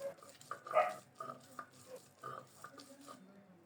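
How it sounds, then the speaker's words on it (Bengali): Mashed bharta paste ground on a sharp stone slab (pata) in a home kitchen, rhythmic rubbing and scraping strokes repeating about every half second, close and moderately loud, with no talk over it. "এই সুযোগে আমি ভর্তাটা পিষে নেব। পাটা অনেক ধার, অল্প সময়ে ভর্তাটা পিষে নিতে পারবো।"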